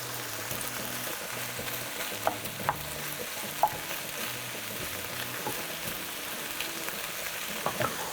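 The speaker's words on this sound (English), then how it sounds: "we want to kind of stir this constantly. And as you can see, the shrimp is starting to turn a little pink" Shrimp frying in a pan and stirred constantly: a steady soft sizzle runs throughout, broken by a few sharp utensil clicks against the pan, with a low hum underneath and no talking.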